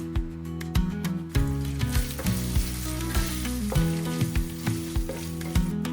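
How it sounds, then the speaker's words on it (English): Chopped garlic, curry leaves and ground spice mix frying in a pan, a steady close sizzle broken by repeated stirring knocks and scrapes, with a strong tonal hum running underneath. "Add 2 tablespoons of finely chopped garlic and a few curry leaves. Stir in the ground spice mix."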